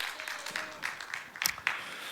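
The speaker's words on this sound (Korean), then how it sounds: "하나님께 감사와 영광의 박수 올려드리겠습니다." Short round of congregational clapping offered to God at the close of a Korean Sunday worship service, moderate and uneven with a few sharper claps near the end.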